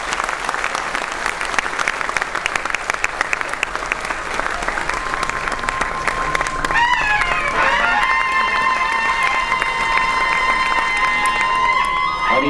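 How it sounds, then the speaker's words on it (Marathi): Loud, sustained audience applause at an honour ceremony during a book launch, dense clapping throughout with a sustained musical tone joining partway and voices faintly beneath. "मारुती लक्ष्मण भंडारी यांच्यासाठी जरा जोरदार टाळ्या वाजवा"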